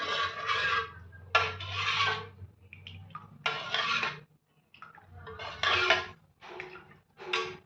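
Ragi malt (ragi java) stirred in a metal pot, a series of close, scraping strokes with short pauses between them.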